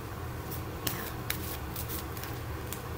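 A deck of oracle cards is shuffled close by in quick riffling bursts with a few sharper snaps, steady and moderately loud, with no voices.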